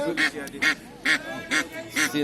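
Several loud, nasal duck quacks ring out in a quick, regular series at a village poultry market, close by and fairly loud.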